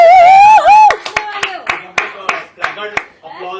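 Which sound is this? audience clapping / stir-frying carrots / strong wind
audience clapping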